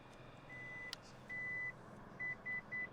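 Warning beeps from a Lexus LX 600 seat fold-and-tumble function: a series of clear, evenly pitched electronic tones, one long followed by another long and then three short beeps, heard alone against a quiet cabin background.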